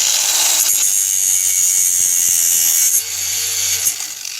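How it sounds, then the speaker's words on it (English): A grinder cuts off overlong screws during the build of a micro underground storage bunker. A loud, continuous close-up whine runs throughout, easing slightly near the three-second mark before carrying on. "the screws were too long, so I've got to grind"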